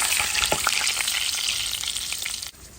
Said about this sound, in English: It's getting a fantastic browning on that skin side now, or on that meat side.